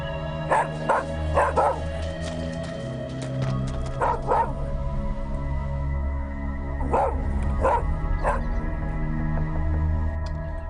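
A dog barks in short clustered bursts, a few yips at a time with pauses between, fairly close indoors, over a low steady background hum; nobody speaks.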